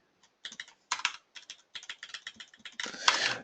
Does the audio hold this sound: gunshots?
no